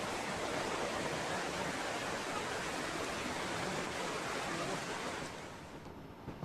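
Strong, fast river current rushing steadily as a dense, continuous roar, close and loud throughout, easing slightly in the final second.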